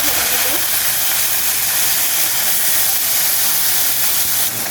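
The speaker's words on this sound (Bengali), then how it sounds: "এখন মাছটা একটু ভেজে নিব।" Small fish frying in a spoonful of oil in a pan, a loud, steady broadband hiss and sizzle running continuously throughout.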